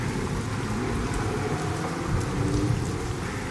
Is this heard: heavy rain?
yes